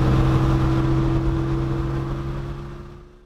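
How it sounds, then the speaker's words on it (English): A Porsche 911 SC's exhaust holds a steady, deep idle drone with a strong low hum, close and loud, then slowly fades away near the end. "I just want to listen to that exhaust over and over again"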